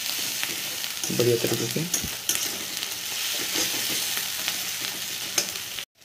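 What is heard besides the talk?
masala frying and being stirred for chicken curry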